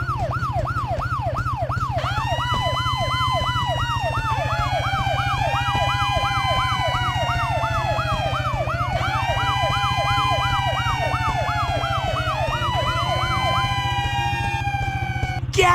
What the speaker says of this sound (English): To turn our sirens on and off, use your mouse to click on the fire trucks.